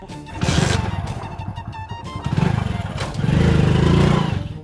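A motorcycle engine struggles to start, with repeated chugging cranking bursts that sputter and rise without catching, loud and close, with a voice briefly mixed in.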